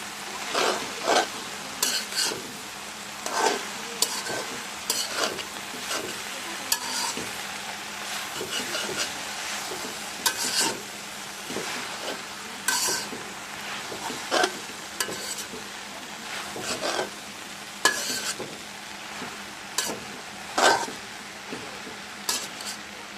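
Jute leaves stirred in a frying pan, a utensil scraping and clinking against the metal in a steady irregular rhythm over a soft continuous sizzle, close and moderately loud, with no talking.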